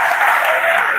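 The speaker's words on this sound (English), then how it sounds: "A round of applause for him." A short burst of audience applause at a Faculty of Life Sciences lecture on red palm oil, dense, close clapping filling the whole second with no voices.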